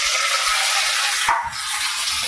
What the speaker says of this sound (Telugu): ఇప్పుడు మనము తోటకూర అందులో వేయాలి. వేసినప్పుడు అలా సౌండ్ వస్తుంది, భయపడకూడదు.